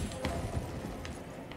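A horse gallops in Elden Ring, its rhythmic clip-clop hoofbeats fairly faint against a murky game background, a few distinct thuds spread across a short stretch.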